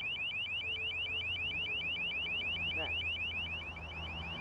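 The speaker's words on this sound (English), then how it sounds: "The LRAD shoots an intensely focused beam of sound." An LRAD long range acoustic device fires a focused sound beam, heard as a rapid, repeating warbling electronic tone that pulses steadily and loudly, with a faint brief voice underneath.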